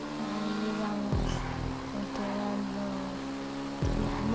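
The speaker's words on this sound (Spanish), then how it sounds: "controlando la moto" A motorcycle ridden in GTA Online drones at a steady, close engine pitch, with two sharp downward pitch drops as the revs shift.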